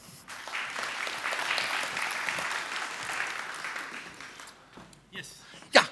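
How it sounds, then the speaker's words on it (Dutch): Audience applause at a Dutch late-night tech talk show, a steady wash of clapping for about five seconds before fading, with a few voices and a sharp sound at the end. "Ja, een applaus voor deze man."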